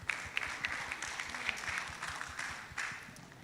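Audience at an international maritime development conference applauding a speaker, a moderate steady clatter of clapping at a low, somewhat distant level.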